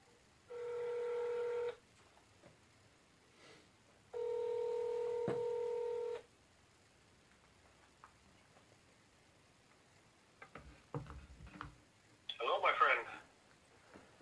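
Telephone keypad tones sound while a call is placed: two sustained electronic tones, then scattered short beeps and clicks, all fairly quiet and close.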